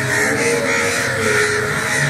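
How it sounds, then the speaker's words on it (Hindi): Crows gather in large numbers and caw repeatedly, their harsh calls close and loud over a constant outdoor background, with no speech. "यहाँ इतने ज़्यादा कौए आए हैं"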